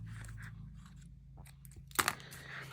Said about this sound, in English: Scissors would be good.